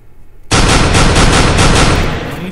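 A rapid burst of cartoon gunfire in an animated episode: a loud stuttering volley that starts abruptly and rattles on for about two seconds before tailing off, with no speech.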